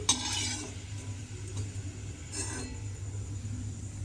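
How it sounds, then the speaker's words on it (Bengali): Lentil dumplings (muitha) frying in oil in a pan, with a soft steady sizzle and a few brief stirring and utensil clinks near the start and around two and a half seconds in. "এইভাবে কিন্তু প্রথমে মুইঠাগুলোকে খুব ভালোভাবে ভেজে নিতে হবে"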